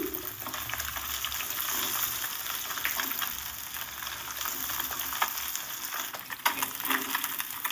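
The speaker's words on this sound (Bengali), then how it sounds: "এই মাছগুলো সব ভাজা হয়ে গেছে এবার আমি তুলে নেব" Steady, crackling sizzle of small rohu fish frying in hot oil, continuous and close, with a few faint clinks partway through.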